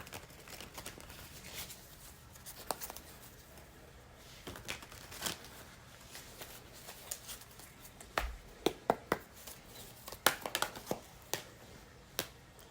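Tarot cards being shuffled by hand, quiet close riffles and crisp card snaps that come in irregular bursts, busier toward the end.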